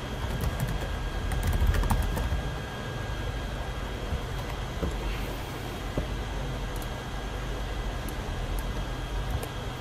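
Rapid, continuous tapping of a computer keyboard while writing a document in Microsoft Word, close and steady with dense overlapping keystrokes and no speech.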